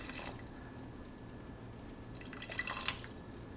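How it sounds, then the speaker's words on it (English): Water poured into an Instant Pot while making cashew chicken, a quiet trickle and a few drips near the end, close by, with no talking. "We're gonna add in about 1/4 cup of water"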